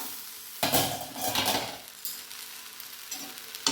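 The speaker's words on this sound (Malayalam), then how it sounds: "ഒന്ന് ഇളക്കി കൊടുക്കാം" Spoon stirring brinjal thoran in a cooking pan, a few close scraping and clinking strokes against the metal with a faint sizzle underneath.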